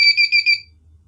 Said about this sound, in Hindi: हमारा जो बजर है कुछ ड्यूरेशन तक बीप करेगा